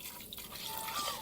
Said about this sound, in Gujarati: લાવો પાણી નાખો થોડું